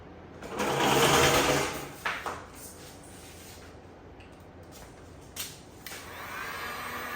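A heat gun warms vinyl wrap on a Tesla A-pillar, giving a steady, close blowing whir that swells loudly for about a second and a half, then drops to quieter bursts and a low hum.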